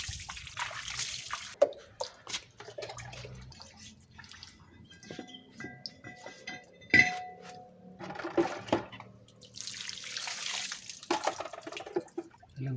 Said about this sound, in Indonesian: Dan ini saya siram dulu dengan air biasa ya.